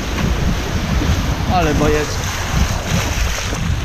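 Warm ocean waves and surf wash steadily under strong wind noise, with a brief spoken remark in Polish in the middle.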